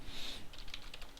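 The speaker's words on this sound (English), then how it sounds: "oops, my typing's terrible" Quick, uneven typing on a computer keyboard during game-trainer coding, a short burst of close, light key clicks with no talking.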